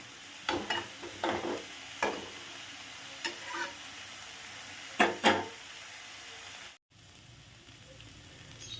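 A spatula scrapes and stirs fried flat-bean mash around a wok in a series of sharp, irregular strokes over a faint sizzle, with no talking.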